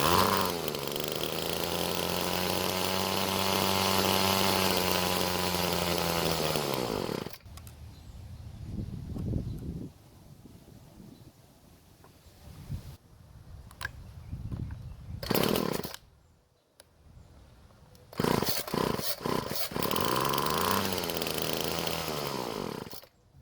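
An old weedeater's small two-stroke engine runs loud and buzzing, then cuts out, followed by several brief pull-start attempts and sputtering bursts before catching again near the end.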